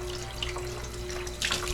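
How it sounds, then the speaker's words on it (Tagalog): Water poured over a patient's hair to rinse it, giving a steady close splashing and trickling stream with a faint constant hum beneath and a brief louder splash near the end. "So ngayon, buhusan na natin, banlawan na natin yung kanyang buhok."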